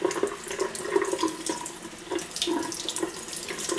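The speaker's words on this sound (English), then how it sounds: "you want to just make sure the water and everything's just running down" Tap water runs steadily into a sink while a doll's hair is rinsed, a close, continuous splashing gurgle with small irregular splatters and no voices.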